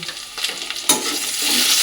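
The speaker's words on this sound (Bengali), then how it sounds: "দেখো আলু আর পেঁয়াজ খালি কিন্তু মোটামুটি মিক্সটা ভাজা হয়ে গেছে" Potato and onion pieces fry with black cumin, turmeric and salt in a pan, a close sizzling crackle with a sharp stirring scrape partway through that leaves a louder, fuller sizzle.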